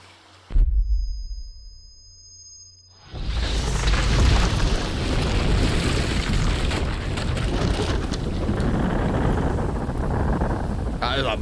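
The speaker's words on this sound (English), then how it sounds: "That is a big ass fucking explosion" A large explosion in the stealth action game Metal Gear Solid Delta: Snake Eater opens with a sharp boom, then after a lull a massive roaring blast rumbles on loudly for several seconds.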